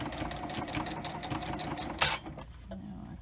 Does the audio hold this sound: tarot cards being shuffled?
no